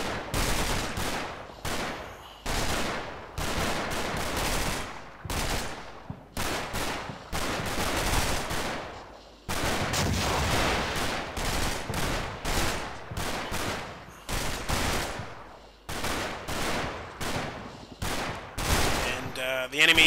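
A squad fires rifles and a bazooka in a Combat Mission Normandy battle, with dense bursts of gunfire repeating in rapid volleys for the whole stretch, loud and close, with brief pauses between them.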